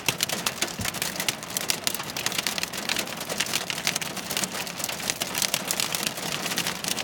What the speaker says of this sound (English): Listen to that hail, eh?